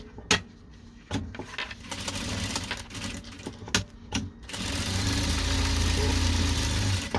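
A sewing machine runs a safety seam around a fabric bag made of patchwork squares, with bursts of mechanical stitching broken by sharp clicks and pauses, then one longer steady run toward the end.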